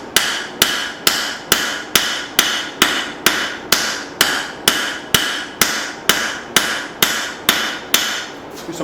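Hammer planishing and straightening a forged axe hatchet: a steady series of about seventeen sharp, evenly spaced metallic blows, loud and close, with no talking.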